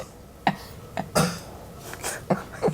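Several sharp coughs in quick succession, close by, with brief pauses between them and some throat clearing.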